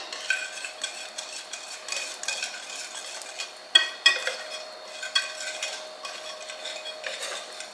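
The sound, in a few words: stirring madeleine batter mixture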